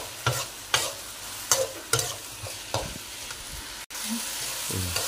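Rattan shoots (umbut rotan semambu) frying in a pan with seasoning, a steady close sizzle broken by repeated sharp scrapes and clacks of a utensil stirring, with no talking.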